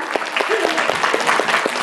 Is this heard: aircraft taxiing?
no